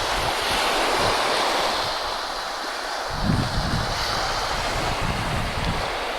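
Mediterranean surf breaking on a beach while surfcasting for sea bream, a continuous wash of waves and wind noise with a louder surge about halfway through.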